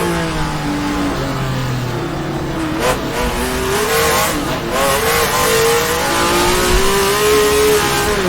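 A BMW racing car engine in the rFactor 2 racing sim at Sebring revs and whines continuously, pitch rising and falling through gear changes, with brief tire squeals and no talking.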